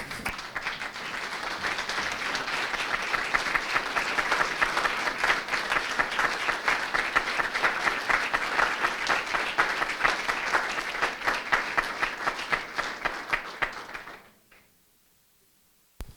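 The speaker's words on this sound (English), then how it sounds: "I would like for us to give him a round of applause and perhaps a standing" A school board meeting audience gives sustained applause and a standing ovation, dense steady clapping from a sizable crowd that holds for about fourteen seconds and then cuts off abruptly into silence.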